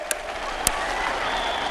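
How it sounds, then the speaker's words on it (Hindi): Sustained applause from a big crowd at a public event honouring newly arrived cheetahs, a dense steady patter with a couple of sharp individual claps near the start. "इन चीतों के सम्मान में ताली बजाइए।"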